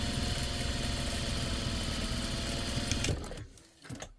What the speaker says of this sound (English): I'm just going to do a quick line of stitching again, just to make sure nothing rips